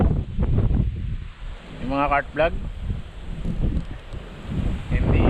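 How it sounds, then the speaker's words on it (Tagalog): Strong wind buffets the microphone in a steady broadband roar at a riverside picnic, with a person speaking briefly over it. "hindi na talaga kaya yung hangin"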